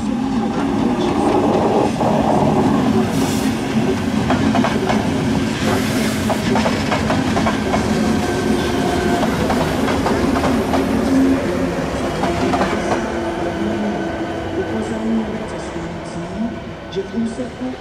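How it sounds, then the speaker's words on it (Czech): A passenger train pulls away from a platform at Kralupy nad Vltavou station, with rolling wheel clatter, rail squeals and steady rumble that fade toward the end, while station announcements play over it. "Vlak je připraven k odjezdu."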